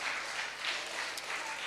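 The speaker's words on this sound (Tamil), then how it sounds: "எல்லாம் திரும்பி பார்த்து கைத்தட்டி கொடுங்க." Audience applause for teachers at a live Vacation Bible School day event, a steady dense wash of many hands clapping at once, continuous and fairly loud throughout.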